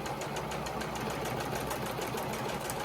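Sewing machine stitching around a small port pillow, a continuous close, loud mechanical whir with rapid even pulsing throughout and no voices.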